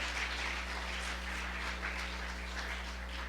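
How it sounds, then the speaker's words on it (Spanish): A church congregation applauds briefly during a sermon, a soft, fairly distant patter of many hands that fades slightly over a few seconds over a constant low hum. "¿Alguien le puede dar un aplauso a Cristo?"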